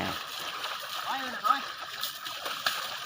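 Water is splashed onto an elephant to wash it after rain, giving short wet splashes and sloshing under a person's talking voice.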